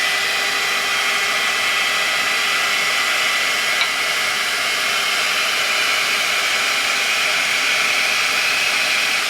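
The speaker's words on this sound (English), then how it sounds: "I'm just mainly using this feature, like the drying feature, just to dry my hair." A GHD hair tool blows steadily while drying curly hair, its airflow making a loud, even whooshing roar with no break from start to finish and no talking over it.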